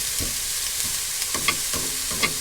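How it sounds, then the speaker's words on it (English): Onions lightly frying in a pan for a homemade quiche, a soft steady sizzle with a few sharper scrapes from stirring, close and moderately quiet. "I'm only lightly frying all this off"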